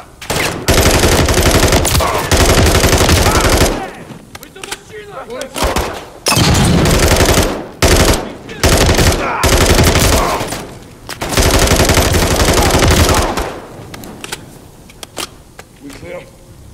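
Dense automatic gunfire from Call of Duty: Modern Warfare 3 rattles in long, loud bursts broken by short pauses, with voices shouting over the combat.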